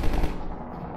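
Machine gun fire in Half-Life 2, a brief loud rattling burst that trails off within a second.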